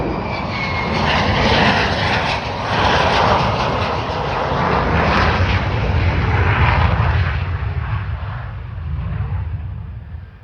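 An F-35 Lightning jet lands at RAF Lakenheath with a loud, sustained roar that swells and ebbs across the whole stretch, rumbling heavily from fairly close by.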